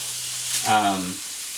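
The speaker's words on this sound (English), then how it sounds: "Oh, listen to that sizzle." Food frying in a pan over medium heat gives a steady, close sizzle, with a short voiced sound rising over it midway.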